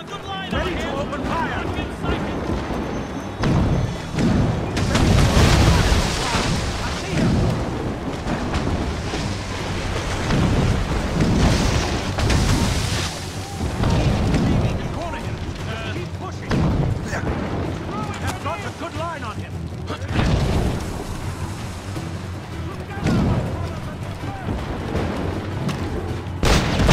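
Heavy ship cannons booming in repeated volleys during a naval battle in the video game Assassin's Creed Rogue, loud irregular blasts over rushing waves and wind, with voices shouting orders.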